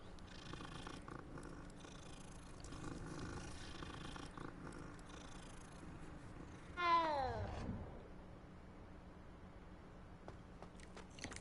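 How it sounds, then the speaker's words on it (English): A cat in the video game Hogwarts Legacy gives a short, faint meow partway through, set against a quiet, low ambient game soundscape. A soft purring hum may lie underneath. "another cat"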